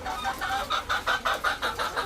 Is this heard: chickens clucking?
yes